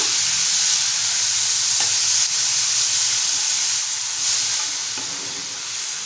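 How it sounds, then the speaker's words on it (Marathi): Chopped fenugreek leaves for Malvani-style methi bhaji are sautéed in a pan, giving a steady, close sizzling hiss with light stirring throughout and no talking. "छान परतवून घेऊया।"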